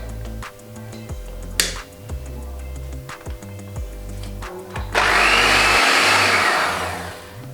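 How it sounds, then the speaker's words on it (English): An electric whisk whirs through cake batter, its steady, loud motor buzz kicking in after a few quiet clicks and knocks, running for about two seconds before cutting off. "Then I turn on my whisk."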